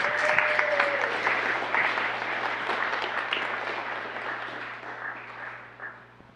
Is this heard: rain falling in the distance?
no